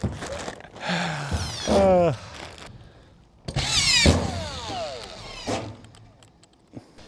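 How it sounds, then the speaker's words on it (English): A Makita 2500 RPM screwdriver drives screws into a large metal roof, giving two bursts of rising whine with rattling metallic contact, and speech woven in between. "this is the Makita 2500 RPM screwdriver"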